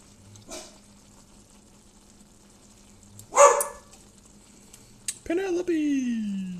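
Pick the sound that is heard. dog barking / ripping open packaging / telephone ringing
dog barking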